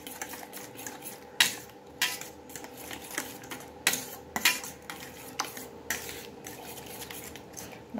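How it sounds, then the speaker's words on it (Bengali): A spoon scrapes and clinks against a bowl while mixing dough ingredients, a series of irregular close taps and rubs at moderate level over a quiet background. "এবার চামচ নিয়েছি, চামচের সব উপকরণগুলোকে আগে আমি ভালোভাবে মিশিয়ে নেব।"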